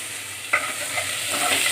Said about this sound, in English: Now we will add these onions slowly. And just stir it.